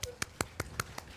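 A church audience produces faint, sharp rhythmic snaps and claps, six evenly spaced hits about a fifth of a second apart over a quiet background.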